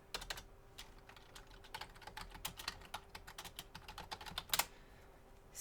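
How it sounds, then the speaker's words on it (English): Rapid keystrokes on a computer keyboard while designing a digital painting, a steady run of light close clicks with a few louder taps near the end over a faint hum. "I can't type with this thing on my hand."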